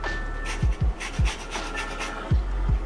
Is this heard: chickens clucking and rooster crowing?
no